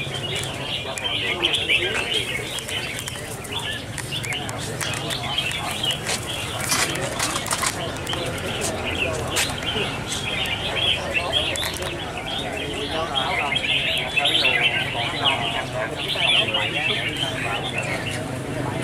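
Red-whiskered bulbuls sing at a bird song contest, with busy overlapping chirps and warbling phrases running throughout, mixed with crowd noise and an announcer talking over them.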